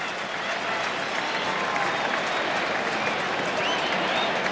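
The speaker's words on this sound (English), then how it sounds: "The applause for their coach, Kevin Sheedy." Stadium crowd at the 1985 VFL Grand Final, Essendon versus Hawthorn, applauding the coach with continuous, dense clapping and cheering that stays steady throughout.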